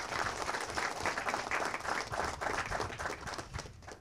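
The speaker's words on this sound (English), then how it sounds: "Let's give Major and Rick a great round of applause for their hard work." A crowd applauds at an outdoor event for a false river restoration project in Louisiana. The clapping is dense and sustained, a steady patter that holds throughout at moderate, somewhat distant loudness.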